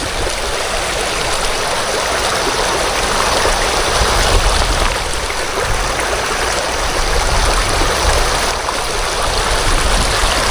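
A river current flows steadily in the open, a continuous broad rush of water heard up close and loud throughout, with no talk.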